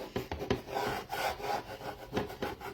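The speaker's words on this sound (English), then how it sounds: "just taking my little scraper, for those of you that are new, and just taking off some of the paint that I put on top" A small scraper rasps over a painted print in short, uneven strokes, close and moderately loud, with irregular scratchy bursts and no talking.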